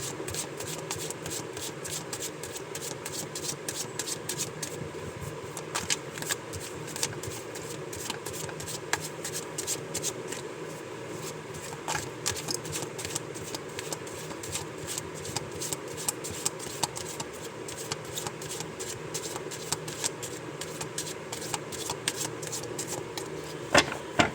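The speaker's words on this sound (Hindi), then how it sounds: "जब तक मैं कार्ड शफल कर रही हूँ आप प्लीज़ पॉजिटिव रहिए" A deck of tarot cards is shuffled by hand in a steady, continuous run of soft riffling and sliding card noise with occasional sharper flicks, close and fairly quiet, with no voices.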